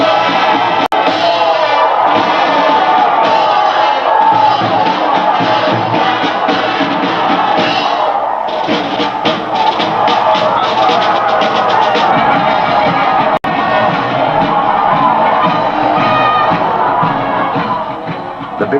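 A seaside carnival crowd lining the street cheers and shouts continuously, a dense steady roar of many voices with occasional whoops rising from the din.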